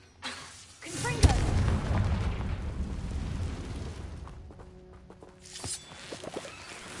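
A Confringo explosion spell goes off in Hogwarts Legacy as a sharp boom followed by a long rumbling blast that fades over several seconds, with softer game effects at the end.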